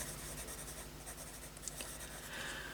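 Pencil scratches softly on paper as someone writes in a weekly planner, a quiet continuous scribble close to the listener with small taps and strokes and no talk.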